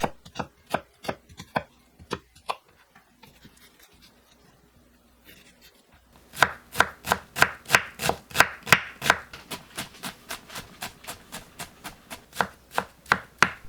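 A knife minces half an onion on a cutting board: a few scattered chops, a quiet pause, then a fast, even run of crisp, close knocks.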